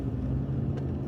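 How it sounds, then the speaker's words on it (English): Steady low engine rumble of a Ford EcoBoost car idling and creeping along in road traffic, a constant droning hum with faint road noise and no voices. "All right, we're caught in some traffic here."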